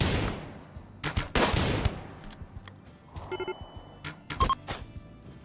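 Video game gunfire from the Odyssey DLC, sharp bursts and single shots in irregular clusters with a couple of electronic beeps between them, fairly loud against a quiet background.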